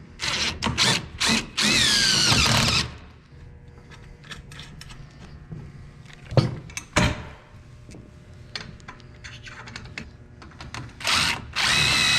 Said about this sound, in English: It's really handy to have power tools.